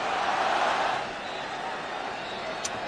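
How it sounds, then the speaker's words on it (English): Stadium crowd at the final whistle of a Barcelona vs Tottenham match in California, a broad wash of applause and cheering that swells then eases to a steady roar, with a commentator talking over it. "And applause all around here because it was a terrific game to enjoy"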